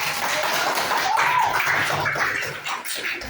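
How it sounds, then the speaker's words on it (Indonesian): Classroom applause for a student group: a steady, fairly loud patter of many hands clapping together, sustained across the whole moment with some voices mixed in. "kasih tepuk tangan untuk kelompok"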